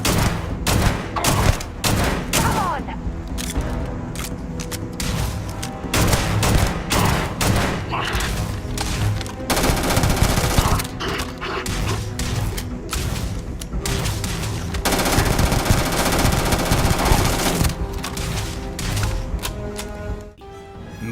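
Dense, rapid gunfire from the space game Starfield, volleys of shots and bursts rattling almost nonstop with brief gaps, loud and close throughout.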